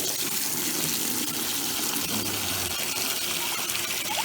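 Water runs steadily from a garden hose outdoors in winter, a continuous close gushing and hissing flow with no voices.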